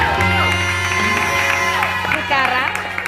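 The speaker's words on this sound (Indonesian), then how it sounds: "Tepuk tangan dulu dong untuk berita-berita kita" A television studio audience claps and cheers as voices shout and whoop throughout, with bright music running underneath.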